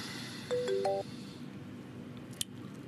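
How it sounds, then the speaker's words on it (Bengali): A phone rings in a home scene from a Bengali TV serial: a short burst of electronic melodic ringtone tones lasting about half a second, then a quiet room with one faint click. "এ আবার ফোন করছে কেন?"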